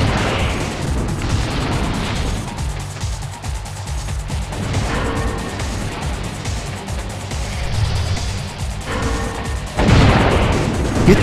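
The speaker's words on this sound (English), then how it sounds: "You'd think someone would notice all the fireworks up here." Explosions and fireworks burst through a noisy action scene in the PS1 game Spider-Man 2: Enter Electro, with dense booms and pops running throughout and a louder burst near the end.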